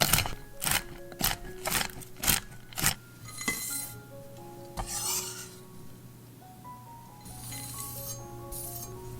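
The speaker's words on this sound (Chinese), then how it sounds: "首先，把15克的核桃切碎" A knife chops 15 grams of walnuts on a board with about half a dozen quick, evenly spaced knocks, followed by softer clinks and scraping.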